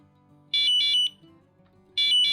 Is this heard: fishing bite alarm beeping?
yes